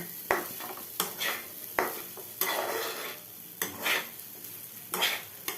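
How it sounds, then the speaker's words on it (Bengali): Ingredients for a simple khichuri, such as potato and pumpkin, fry in a pan with a continuous sizzle, punctuated by five or six distinct scraping, knocking stirs of a spoon against the pan, close up. "এরকমভাবে একটু ভেজে নিলাম"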